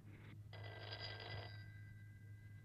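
An old-fashioned telephone bell rings in an Italian television comedy scene, a single ringing burst of about a second, fairly faint and somewhat distant over a low steady hum, with no voices.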